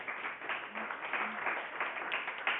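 Applause from an audience at a religious lecture: steady, moderately faint clapping that runs throughout without pause, thin and muffled in tone.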